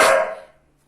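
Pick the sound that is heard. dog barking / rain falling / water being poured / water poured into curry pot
dog barking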